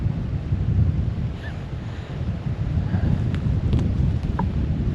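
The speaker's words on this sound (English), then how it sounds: "The wind's picking up." Wind gusts across a campsite, rumbling steadily against the microphone in a loud, continuous low roar with faint flutter, no voices present.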